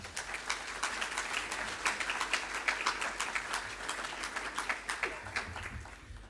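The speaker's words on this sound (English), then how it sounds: "Please give yourselves a round of applause" An audience at an education awards ceremony gives itself a round of applause, a steady patter of many hands clapping, fairly faint and distant, sustained for several seconds.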